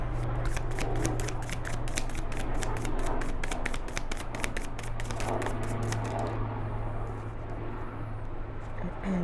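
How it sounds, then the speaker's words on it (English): Tarot cards shuffled by hand: a steady run of quick papery riffling clicks for several seconds over a constant low hum, then the riffling stops near the end. "I'm going to pull a tarot card actually."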